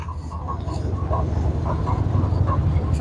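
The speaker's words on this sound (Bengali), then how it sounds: "এটা সুন্দর টয় ট্রেন যাচ্ছে" A toy train runs through the Howrah rail museum grounds, a steady rumble of wheels on track with faint rhythmic clicks, fairly close and continuous throughout.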